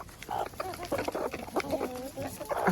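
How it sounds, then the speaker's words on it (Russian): Several hens cluck and chatter close by as they peck at corn, wheat and sunflower seeds, irregular overlapping calls and short tonal squawks over light scratching, with no voices. "Вот, конечно же, они сразу съедают все семечки."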